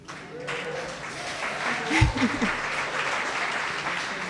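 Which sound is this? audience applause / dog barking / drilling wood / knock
audience applause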